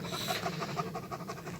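A dog pants steadily during an evening walk, with quick rhythmic breaths close to the microphone that go on throughout without any talking.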